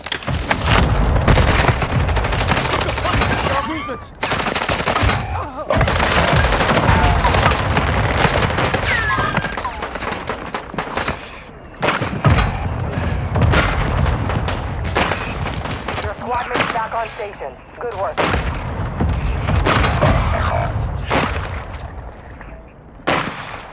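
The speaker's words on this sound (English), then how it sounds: "Our mortar strike inbound." Mortar strike explosions in Call of Duty Warzone 2 on Ashika Island, heavy booms mixed with rapid gunfire bursting repeatedly over the whole stretch, with voices talking in between.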